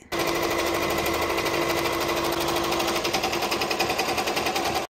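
An embroidery machine rapidly stitching a whisk design onto an apron, a loud steady mechanical chatter of needle strokes running evenly for several seconds before cutting off.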